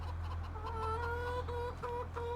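Chickens in a farming video game cluck in a run of short, overlapping calls over a steady low hum, moderately loud and close, with no talking.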